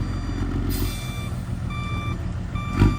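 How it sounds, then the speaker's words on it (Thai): A dump truck reverses to tip its load, its backup alarm sounding as steady repeated beeps over a loud, continuous diesel engine rumble that swells briefly near the end. "งานถอยเทครับถอยเทครับ"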